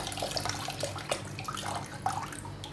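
Tap water runs steadily into a sink while raw chicken is washed with lemon for grilling, a continuous splashing flow with small irregular spatters and drips, fairly close.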